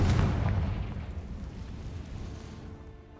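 A Confringo blasting spell explodes in the Hogwarts Legacy video game, a single loud, deep boom that rumbles and fades over a few seconds, no talking.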